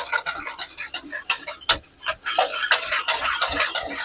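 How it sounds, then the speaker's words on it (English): An egg mixture is whisked briskly in a bowl for apple and peach croissant bread pudding, a fast, regular clatter of wire strokes close by, with a brief pause midway before the rhythm picks up again. "I'm just going to whisk that egg mixture up."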